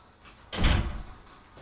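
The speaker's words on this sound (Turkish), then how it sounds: "Kapıyı kapattım arkadaşlar." A door swings shut with a single solid thud and a brief rattle, close and clear in an otherwise quiet room, followed by a faint light click.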